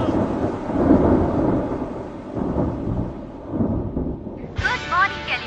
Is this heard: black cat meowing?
no